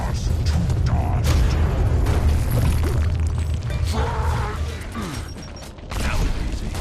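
In the Gears of War video game, a frag grenade blasts in a grub hole among dense game action: booming explosions, creaks and mechanical clatter, heard loud and close.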